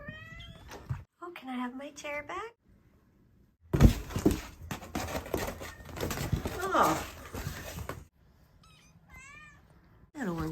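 Young kittens give repeated high, rising meows in short clusters, close and fairly loud, broken by a clattering, shuffling burst in the middle; a person speaks briefly.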